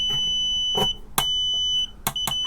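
A multimeter set to continuity emits a steady, high-pitched test beep. The tone holds nearby and is broken by short clicks and handling noises.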